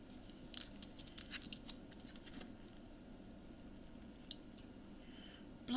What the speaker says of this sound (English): Blunt scissors everywhere